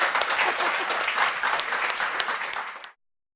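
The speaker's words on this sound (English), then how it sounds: "But an applause for Tonya Nelson" A crowd applauds in a full, even burst of clapping that stops abruptly, followed by silence.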